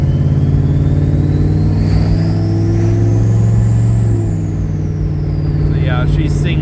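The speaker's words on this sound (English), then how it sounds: "But you'll hear the turbo whistle." A 1981 Pontiac Turbo Trans Am engine, still cold, revs hard under steady load while a thin, high turbo whistle rises, peaks and fades over the drone.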